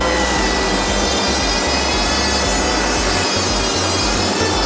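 A glued wooden furniture panel is sanded in a factory, producing a loud, steady, unbroken abrasive rasp that holds the same harsh texture throughout without pause.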